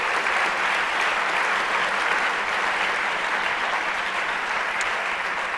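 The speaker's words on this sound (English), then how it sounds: "Could you give all those people a huge round of applause?" Sustained audience applause at a high school veterans ceremony, a steady, dense roar of many hands clapping throughout, loud and unbroken with no speech.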